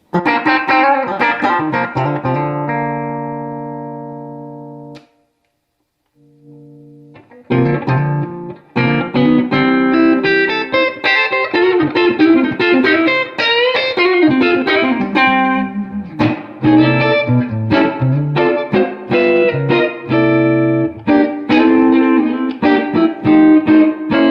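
Electric guitar, a 1974 Telecaster Deluxe through a 1968 Super Reverb tube amp, plays sustained chords that ring out and fade, then after a brief pause launches into a loud, thick, strummed and picked passage.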